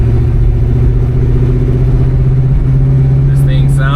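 A 1970 Oldsmobile Cutlass 442 engine runs steadily while driving, a deep constant drone with a slight rise near the end, and faint higher whines come in over the last half second.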